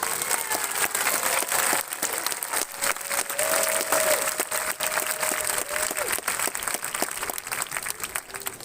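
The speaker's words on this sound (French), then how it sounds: "On applaudit les arbitres." A crowd applauds referees entering an arena for a Roman-style combat show, steady sustained clapping filling the whole stretch with crowd noise beneath.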